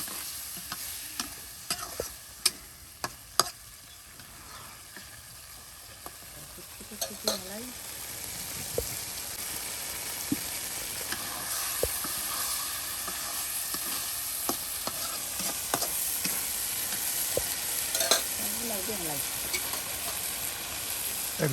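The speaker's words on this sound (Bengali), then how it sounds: "সব একসাথে এখন কষিয়ে নেওয়া হবে। হ্যাঁ মশলার সাথে।" Dried fish and pumpkin stalks sauté with spices in a pan, with a soft steady sizzle and repeated scraping and clinking of a spoon while stirring, fairly quiet and close.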